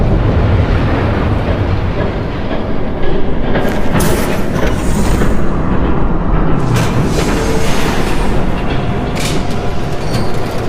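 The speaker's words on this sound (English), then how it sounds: "There's a train coming." A train rushes past in Batman - The Telltale Series, a loud, continuous rumble and rattle of wheels on rails with clickety-clack bursts and metallic screeches, filling the whole stretch with no voices.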